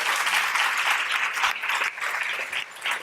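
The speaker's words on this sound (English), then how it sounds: "Give the panel a round of applause." Applause from an audience at a human trafficking summit honouring a panel: a dense wash of clapping that swells and dips, easing slightly toward the end, with no voices over it.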